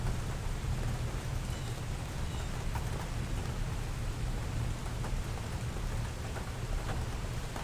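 Steady, dense rain from a passing storm pours down without a break, a constant hiss over a low rumbling bed that stays loud and even throughout.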